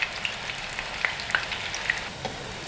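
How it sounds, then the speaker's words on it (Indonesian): Tofu fries in hot oil until half cooked, a continuous close sizzle with scattered crackling pops, no voices. "Kita goreng tahunya ini setengah mateng aja, karena nanti mau dimasak lagi dengan santan ya."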